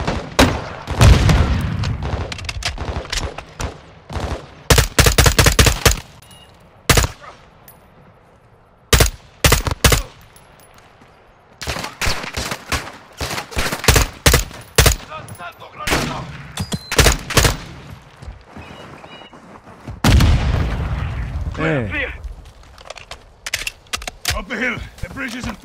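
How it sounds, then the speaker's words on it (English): Rapid gunfire bursts and booming grenade explosions fill a Modern Warfare 2 (2022) campaign battle, loud and close with sharp rattling volleys, gaps of quiet, and heavy blasts, while voices talk in between. "They stay throwing grenades, bro."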